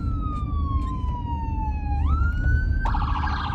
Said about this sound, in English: there's always ambulances in and out the whole day